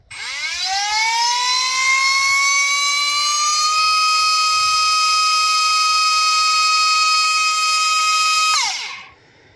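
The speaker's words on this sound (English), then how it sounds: "I may have to hold that motor down. Let's do a run." Hobbywing Xerun and Slingshot 4.5T brushless RC car motor run on 8.6 volts, a loud rising electric whine that climbs in pitch, holds a steady tone for several seconds, then drops away sharply.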